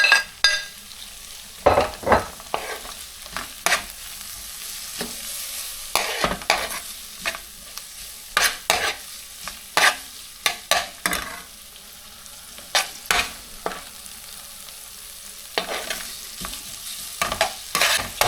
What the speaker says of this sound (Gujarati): હવે ટમેટા થોડા ગળાઈ ગયા